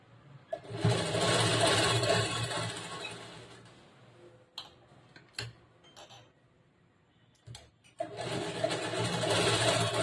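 A sewing machine stitching blouse fabric runs in two steady, rapid buzzing bursts, the first about three seconds long and the second beginning after a pause. In the gap, brief clicks and fabric handling are heard close by.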